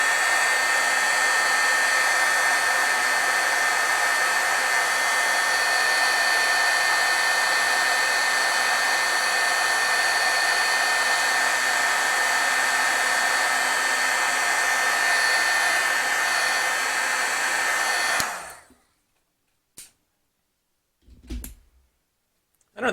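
A heat tool blows steadily and loudly for about eighteen seconds while heat-setting wet stamped ink, then switches off, followed by a few faint knocks.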